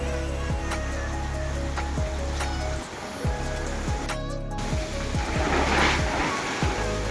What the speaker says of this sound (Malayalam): നല്ല തകർത്ത് പെയ്യാണ് മഴ